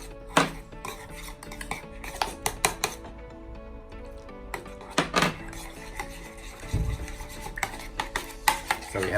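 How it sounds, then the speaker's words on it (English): A spoon stirs a thick slurry of Maseca corn flour for vegan fishcakes, with scraping and clinking against the bowl in uneven bursts over a steady musical background. "Mix this into a slurry."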